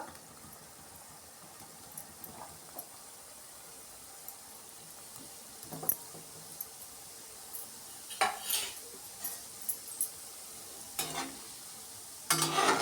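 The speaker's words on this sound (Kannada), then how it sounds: "ಒಂದೊಂದೇ ಉಂಡೆನ ನಾವು ಸೇರಿಸ್ಕೊಳ್ಳೋಣ ಈ ಥರ ಕಡಿಮೆ ಉರಿ ಇಟ್ಕೊಂಡು ನಾವು ಫ್ರೈ ಮಾಡ್ಕೊಬೇಕು" Gulab jamun dough balls frying one by one in hot oil on low flame, a faint soft sizzle with scattered metallic clinks and scrapes of a spoon against the pan, growing busier toward the end.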